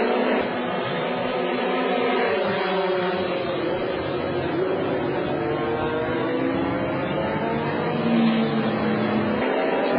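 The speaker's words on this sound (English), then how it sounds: "Peter Hardman coming back out in the car." A GT race car circuits the Valencia track during FIA GT qualifying in 2000, its engine a steady, continuous drone that holds at a fairly constant level throughout without clear revving peaks.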